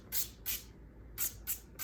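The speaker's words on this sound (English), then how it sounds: "A few little sprays on each side." Short bursts of cooking oil spray misted over breadcrumbed chicken before it goes in the oven: four or five quick, close hissing sprays in an uneven rhythm, with brief pauses between them and no talking.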